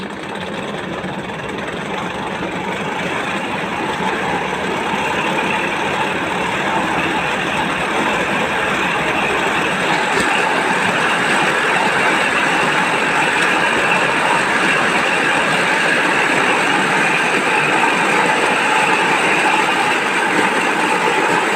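A meter gauge rail taxi on the Laguna railway line gets underway with a steady, loud diesel engine rumble and broad mechanical drone that holds level for over twenty seconds, with no voices.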